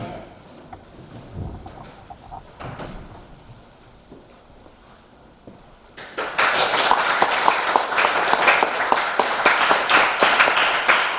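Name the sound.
congregation applauding to welcome a missionary to the pulpit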